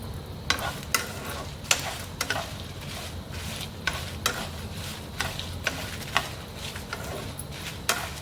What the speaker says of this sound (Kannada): ಫ್ರೈ ಮಾಡಿಕೊಳ್ಳುವ ಚೆನ್ನಾಗಿ. ಚಿಲ್ಲಿ ಸ್ವಲ್ಪ ಫಾಸ್ಟ್ ಆಗಿರುವ.